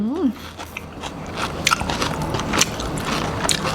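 Crisp-fried fermented fish, served with rice, chilli and lime, is bitten and chewed up close, giving a string of loud crunches and wet chewing, with a voice murmuring at times.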